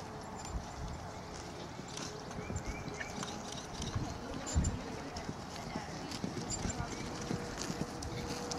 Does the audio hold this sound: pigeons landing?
no